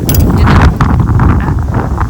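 Wind blows through a sesame field in a village during harvest, a loud, close, buffeting rumble against the microphone with rustling gusts and no talking.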